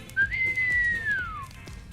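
A person gives a single clear whistle, about a second long, that rises and then slides downward, heard alone against quiet background noise during a Christmas show.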